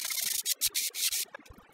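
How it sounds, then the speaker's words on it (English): Close, raspy strokes of 100-grit sandpaper on a sanding block scraping across hard plaster, several quick back-and-forth passes with short pauses between them. "Using 100 grit paper on my custom sanding tool, it makes quick work on the plaster"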